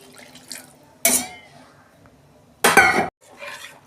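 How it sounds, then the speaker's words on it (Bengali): Water poured into a pan of cooked-down masala for a Bhola fish curry with brinjal, two short loud splashing bursts with faint clinks between quieter kitchen sounds; a voice is also heard. "এবার জল দিয়ে দিচ্ছি আন্দাজ মতো জল দিয়ে দিচ্ছি"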